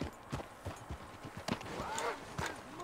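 Horse hooves clip-clopping in Red Dead Redemption 2 on PS4: an irregular run of sharp hoof knocks under game sound, with a voice briefly audible in the middle.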